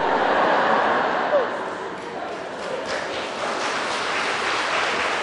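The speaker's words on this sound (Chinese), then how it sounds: "不用拍掌" A lecture-hall audience at a Buddhist dharma talk claps in a steady, dense wash of applause lasting several seconds, with a voice faintly underneath.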